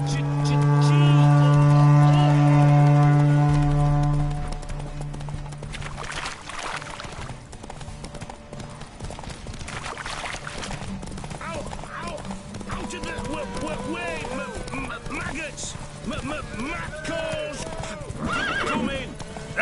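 Roach, a horse in The Witcher 3, gallops in a race with steady clip-clop hoofbeats and a loud whinny near the start, the pounding hooves continuing close by under music and other game noise.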